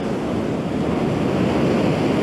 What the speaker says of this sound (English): We're still getting the odd wave like this one.